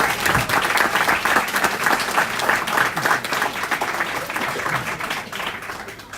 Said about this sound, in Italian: vi invito a fare un grande applauso al nostro Marco Mori.